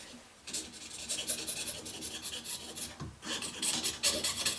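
Saw blade rasping through pearl shell for a guitar inlay, a quiet, close, uneven scraping in rapid back-and-forth strokes with a brief pause midway.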